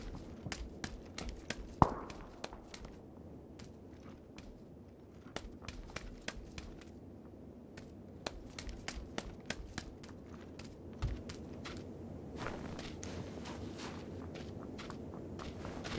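Footsteps in the battle royale shooter PUBG, a steady run of soft, close thuds and taps over a low ambient bed, growing busier toward the end.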